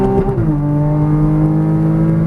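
A Porsche Cayman GTS engine on a racetrack pulls loud and close, its tone dropping sharply as it shifts up a gear, then settling into a steady strong drone.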